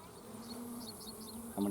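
Honeybees buzzing in an open hive, a steady close drone with a brief louder burst near the end as a bee passes close by.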